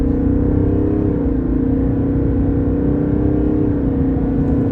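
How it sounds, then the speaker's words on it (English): A 2023 Chevy Silverado 1500 RST accelerates hard in sport mode, its engine droning loud and steady from inside the cabin with a low, continuous rumble and no talking. "try another acceleration run too in sport mode"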